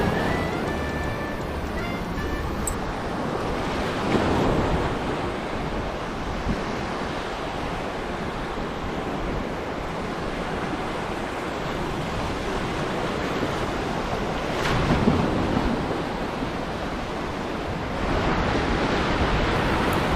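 Steady rush of surf breaking on the beach at Jesolo, Italy, with periodic louder wave swells and some wind buffeting the microphone; no voices.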